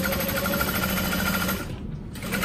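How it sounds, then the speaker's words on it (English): A close sewing machine hums and whirs at a steady, rapid pace while stitching fabric for a barrel bag, easing off briefly before picking up again. "you're just going to sew half an inch right next to, but not through"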